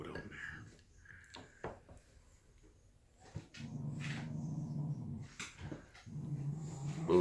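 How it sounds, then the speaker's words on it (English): Bulldogs growl in the background near a backyard barbecue, low rumbling growls rising and falling across several seconds, with a few sharper vocal bursts and some quiet talk mixed in. "Bulldogs growling in the background."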